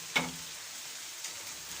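Chicken pieces sizzling in a pan for white chicken karahi, a soft steady fry with a sharp clink of a utensil at the start and another faint knock later.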